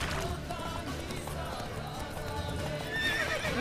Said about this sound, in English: Oh, the horse became very afraid of something.